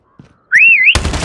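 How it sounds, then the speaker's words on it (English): A Call of Duty multiplayer whistle blows once as a loud, warbling, rising and wavering tone lasting under half a second, cut off by a burst of gunfire right after, with faint soft thumps before it. "Next whistle in 10 seconds."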